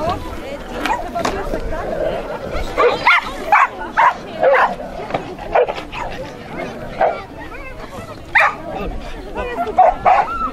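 Several dogs bark, yip and whimper at an autumn outdoor dog show picnic in Poland with contests for the longest, biggest and smallest dog, in bursts over a steady murmur of crowd chatter.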